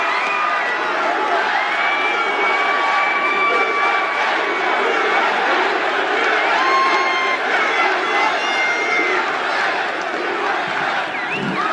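A large crowd at a political rally in Reading, Pennsylvania roars and cheers continuously, with scattered whoops and shouts riding over a dense, steady wall of voices.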